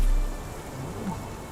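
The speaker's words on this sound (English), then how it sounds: "This dreary rain is making a miserable day even worse." Rain falls steadily in the game Sherlock Holmes: The Awakened, a soft, continuous wash of water with a low thump at the start and a faint murmur beneath.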